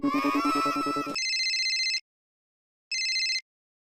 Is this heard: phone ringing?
yes